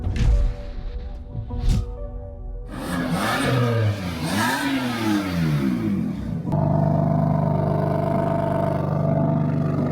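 An engine arrives close by and revs, its pitch sweeping up and down repeatedly, then settles into a loud steady idle, with some clatter at the start.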